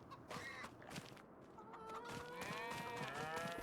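Cattle mooing on a farm in Farming Simulator 25, several drawn-out lowing calls overlapping at moderate distance over a steady ambient bed, with no talk.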